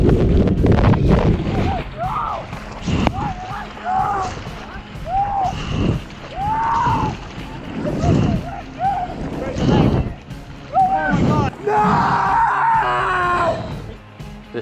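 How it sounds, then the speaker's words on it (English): An injured surfer with a badly twisted knee screams repeatedly aboard a boat at Cloudbreak, Fiji, a series of loud wavering cries over wind buffeting, engine noise and nearby voices. "The screams were just terrible to hear."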